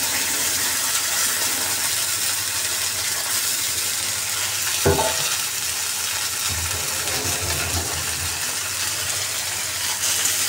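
Bitter gourd (karela) slices frying in oil in a pan, a steady bright sizzle throughout with a brief clatter as the pieces drop in and a few low scraping stirs afterward; no voices.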